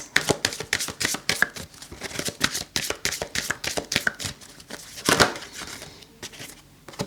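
Tarot cards being shuffled by hand, a rapid series of crisp riffling flicks and slaps in uneven bursts, close and clear, with no voice over them.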